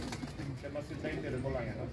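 Pigeons coo softly at close range for under two seconds, a low murmuring burble with faint rustling around them.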